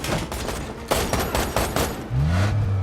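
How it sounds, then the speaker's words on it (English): Rapid bursts of gunfire crack through a film gun battle, dense and loud, followed by a low engine-like drone rising near the end. "A full-blown gun battle follows"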